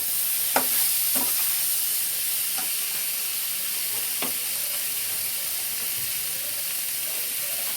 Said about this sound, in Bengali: টমেটো দিয়ে আলুটাকে আবারও ভালো করে কষে নেব, বেশ কিছুক্ষণ নেড়ে নেব।